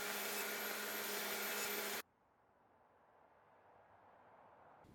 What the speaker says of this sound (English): First, grinding the bevels to their final shape and thickness.